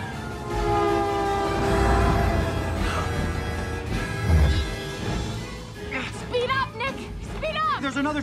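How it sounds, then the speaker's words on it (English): In an animated film chase scene, an oncoming train roars and rumbles loudly while a horn blares, with excited voices shouting over the rail noise in the final seconds. "Another train coming!"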